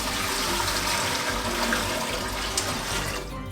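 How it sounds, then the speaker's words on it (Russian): Five litres of water pour into a cooking pot on the stove, a loud, steady rushing splash that runs for several seconds before tailing off abruptly. "и вливаем 5 литров воды."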